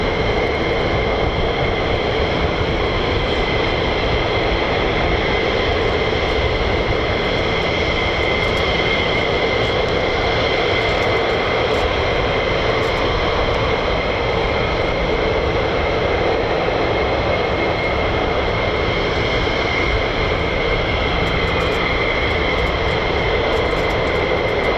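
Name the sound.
US Air Force F-15E Strike Eagle jets taxiing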